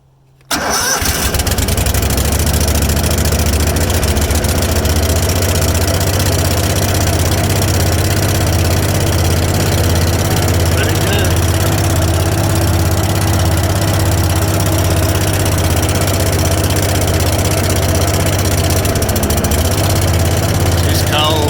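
A Vac-Tron pump trailer's engine cranks and catches almost at once, then settles into a loud, steady idle that runs on without change. The engine is close by and cold.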